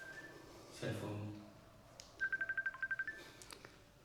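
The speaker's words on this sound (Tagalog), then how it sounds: "May tumatawag." A cellphone rings with an incoming call inside a modern house bedroom: a short, even run of rapid electronic beeps, moderately loud, following a brief burst of voice.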